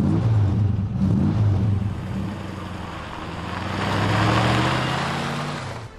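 A classic BMW 507 roadster drives by close with a deep, throaty engine note that eases off, then builds again as it accelerates and revs.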